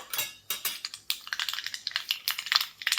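Mustard seeds spluttering in hot oil for a spicy homemade puri bhaji, heard as rapid, irregular, sharp crackles and pops close by. The bursts are dense and continuous, with no voices.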